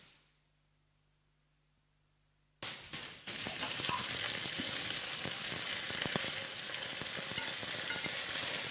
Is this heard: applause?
no